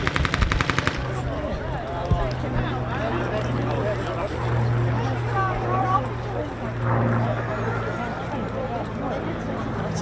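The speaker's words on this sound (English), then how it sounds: "Sounds like anti-aircraft fire there or something." Simulated anti-aircraft gunfire during an airshow display at the Lincolnshire Aviation Heritage Centre, a rapid burst of shots at the start followed by a continuous engine drone, with scattered pops and a voice talking over it.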